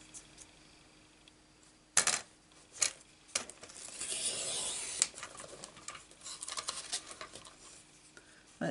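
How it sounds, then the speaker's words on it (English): A small paper trimmer cuts card, giving several sharp clicks followed by a sliding, rasping stroke of the blade along the sheet, close and fairly quiet with short pauses between the sounds. "Bring a little trimmer because I need to trim this down."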